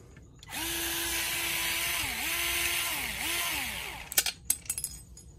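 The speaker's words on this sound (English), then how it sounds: "right now I'm just loosening the bash guard" A power driver loosens the bash guard bolts on a Sur Ron electric bike, giving a close, loud whine that pulses and dips in pitch a few times. A cluster of sharp metallic clicks and clatters follows as it stops.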